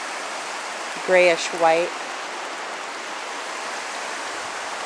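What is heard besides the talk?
river flowing from Mount Rainier glaciers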